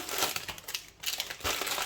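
Plastic grocery bags crinkle and rustle continuously up close, with a brief lull midway, and no talking.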